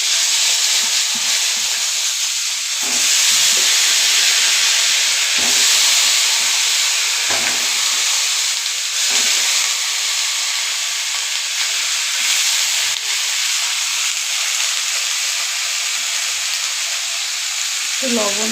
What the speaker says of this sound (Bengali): আলু ভাজা তেলের মধ্যে ফুলকপিগুলো ভেজে নেব।